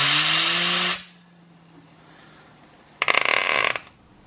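A fidget spinner blasted by an air compressor gives a loud broadband hiss with a rising whine for about a second, then near silence, then a second short burst of air.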